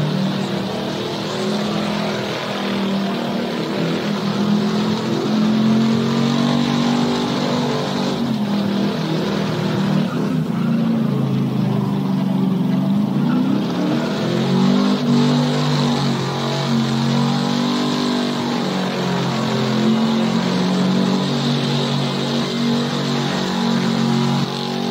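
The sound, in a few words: pickup truck doing burnout, engine revving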